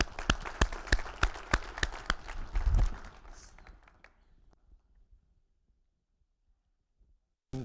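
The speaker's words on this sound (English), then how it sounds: "round of applause for all of you" A conference audience applauds at a closing plenary, with sharp, rhythmic claps at first that thin out and fade to silence, followed by a short sound at the very end.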